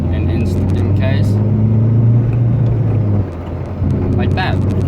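A VW Golf CitiSport engine holds a loud, throaty, low growl, idling close by, with a short dip in level before it swells back.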